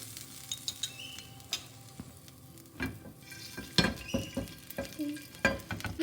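Garlic paste frying in about three tablespoons of oil while being stirred, a soft steady sizzle broken by repeated scraping and clinking stirs at an irregular pace.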